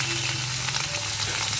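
Potatoes frying in oil in a kadai, with cumin, dry chillies and bay leaf, give a steady, close sizzle with a low hum beneath it. No one speaks.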